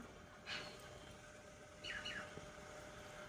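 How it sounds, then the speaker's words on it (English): Faint, high squeaky bird calls, two brief chirps a second or so apart, over the low steady hum of a Moebot S10 robot lawn mower. "that squeaky noise is not the machine, that's a bird."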